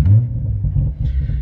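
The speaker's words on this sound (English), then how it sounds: "initial fire up, you do hear still the exhaust burbles and the bangs and the pops and stuff like that" A Toyota Supra GR A90 with an aftermarket budget exhaust starts up, a loud, deep rumbling idle with a brief rise in tone, heard from inside the cabin.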